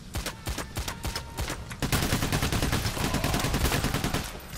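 Rapid automatic gunfire echoes down a hallway during a bank heist in Payday: The Heist, a steady rattle of shots throughout that grows louder and denser after the first two seconds.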